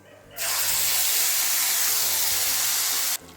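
Spice paste going into hot oil already fragrant with bay leaf, whole cumin and whole garam masala, giving a loud, steady sizzling hiss that starts suddenly and holds for about three seconds before cutting off.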